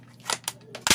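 An aging Double Bell VSR-10 airsoft sniper rifle with a worn sear slam-fires, giving several short, sharp mechanical snaps and clacks close by in quick, uneven succession.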